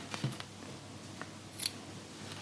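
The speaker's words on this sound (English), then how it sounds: "Cut it." Scissors snipping through knitting yarn at the end of a balaclava, giving a few quiet, close clicks and a brief metallic snip against a hushed background.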